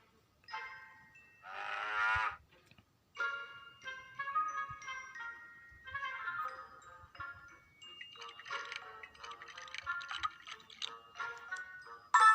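A cartoonish cow moos in the Case Hunter video game, a series of short, bright, tonal calls scattered among clicking and chiming game effects over about twelve seconds, with quiet gaps between them.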